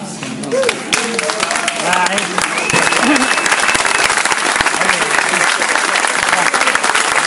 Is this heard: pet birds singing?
no